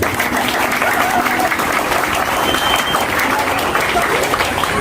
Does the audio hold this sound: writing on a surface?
no